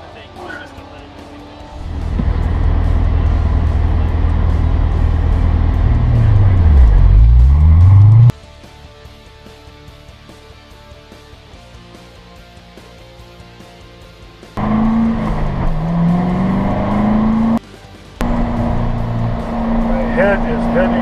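A Corvette show car doing hot laps on a race track, a loud engine drone with rising and falling revs and brief tire squeal, broken by quieter cabin stretches where people talk.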